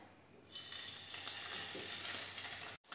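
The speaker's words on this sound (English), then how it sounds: "Let's start frying the salmon trout." Steady, bright sizzling of salmon trout frying in a hot pan, a constant crackling hiss with small pops, no voices.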